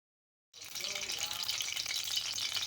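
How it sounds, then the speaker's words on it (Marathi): After a brief silence, oil starts sizzling and crackling steadily in a wok on a gas stove, a continuous bright hiss close up with no voices. "गॅसवरती मी कढई ठेवलेली आहे आणि त्याच्यामध्ये आता मी थोडंसं तेल घालते"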